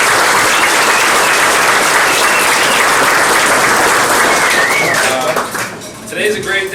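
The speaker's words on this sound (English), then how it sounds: "it's a big round of applause for them" A wedding crowd gives loud, sustained applause that tapers off near the end, with a voice speaking briefly as the clapping fades.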